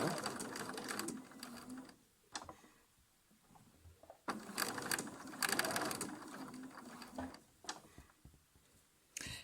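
Sewing machine stitching a Drunkards Path quilt block, close and steady mechanical whirring in two runs separated by a quiet pause, with faint clicks between bursts.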